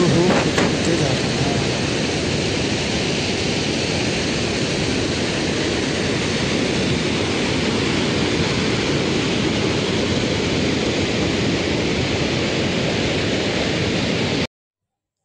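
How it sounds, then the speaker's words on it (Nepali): Phute waterfall on the trek to North Annapurna Base Camp roars as a loud, steady, close rush of falling water that holds unbroken throughout. "यो हो फुटे झरना।"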